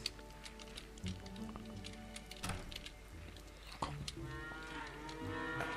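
Cows moo repeatedly in the farming video game Farmer's Dynasty, several drawn-out calls overlapping over a steady in-game background hum, with no talking.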